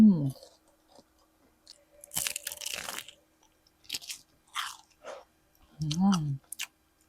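Crunchy Jollibee fast food is bitten and chewed up close, giving several short crisp crunches separated by quiet pauses.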